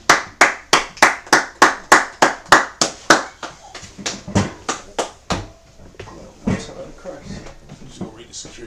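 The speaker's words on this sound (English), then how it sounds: "Clap it up." A group clapping in unison with sharp, evenly spaced claps, loud and close, that speed up slightly and then loosen into scattered, fading claps amid some background stirring.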